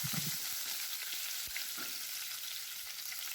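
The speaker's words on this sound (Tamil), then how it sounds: "நல்லா ஒரு கைப்பிடி அளவுக்கு கருவேப்பிலையை உருவி கழுவி வச்சுருக்கேன். அதை இதில் சேர்த்துட்டு நல்லா வதக்கிக்கலாம்." Fresh curry leaves sautéing in a pan for egg masala give a steady, close hiss and sizzle of hot oil, with a few soft stirring clicks and no voices.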